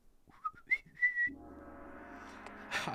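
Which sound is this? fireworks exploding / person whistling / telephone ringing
person whistling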